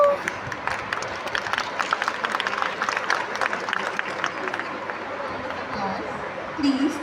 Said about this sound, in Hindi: Please give a huge round of applause for Mannat.